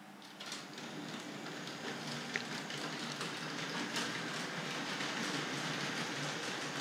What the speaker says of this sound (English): then I can take the suburban train back down onto level ground